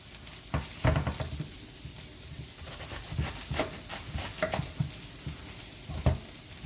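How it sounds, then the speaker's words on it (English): Cabbage cooking in a pot, a steady sizzle and crackle with periodic clanks and scrapes of stirring, close and moderately loud with no talking. "Yes, I am cooking cabbage."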